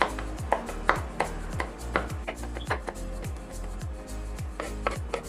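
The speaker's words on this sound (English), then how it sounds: "And you just chop it" A knife chops garlic on a cutting board in a steady, quick rhythm of crisp knocks, close and fairly loud, with no talk over it.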